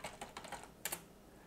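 A password typed on a computer keyboard during a Linux software install: a quick run of light, close key clicks followed by a short double burst, then quiet.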